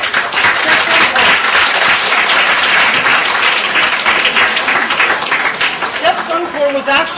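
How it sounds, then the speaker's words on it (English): A cooking class audience at a Bangkok hotel breaks into loud, sustained applause, dense clapping that fills the whole stretch before thinning slightly at the end. "Please, let's give her a welcome round of applause."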